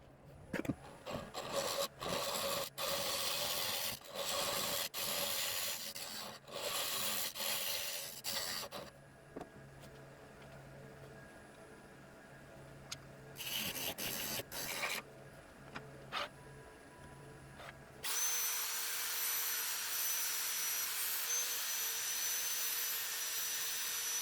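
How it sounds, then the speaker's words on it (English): A tool scrapes out a recess in a walnut blank turning on a wood lathe, with bursts of rasping cutting noise, a quieter stretch of motor hum, more scraping, then a steady whirring drone at the end. "I'm going to scrape out again one more time"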